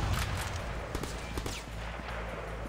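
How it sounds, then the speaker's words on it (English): Weapon fire from a grenade launcher in the Sleeping Dogs video game, a steady dense rumble of gunfire-like bursts and impacts lasting throughout at moderate loudness, with no talking. "So, grenade launcher, kinda useless in this game, huh?"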